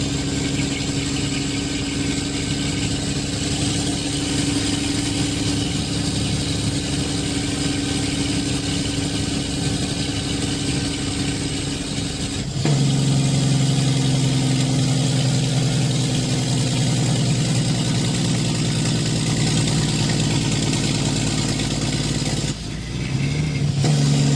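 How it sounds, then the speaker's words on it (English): Truck Jake brake engine braking at night: a loud, steady low engine drone that shifts to a deeper, stronger rumble halfway through and holds, with a brief dip near the end, no talking. "Now, how do you like the Jake brake?"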